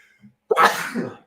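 A single sharp, loud sneeze bursts out after a brief quiet intake, trailing off over about half a second.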